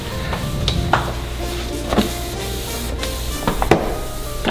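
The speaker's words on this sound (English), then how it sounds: "instead of just spray on the cleaning cloth." A few short hissing bursts of cleaner sprayed onto a cleaning cloth, close and fairly clear, separated by quiet handling noises.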